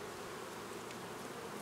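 Honeybees buzzing around a hive during spring colony work, a dense steady hum of many bees close by and without pause, with no voices.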